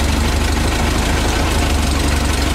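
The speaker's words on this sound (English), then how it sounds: "you hear how the engine tone changed because of advanced timing" A Volkswagen Type 3 engine idles steadily and loudly up close, its low rumbling tone shifting slightly as vacuum advance is applied to the timing.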